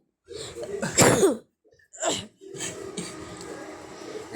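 A burst of harsh coughing up close, followed by another short cough and then rough, raspy breathing.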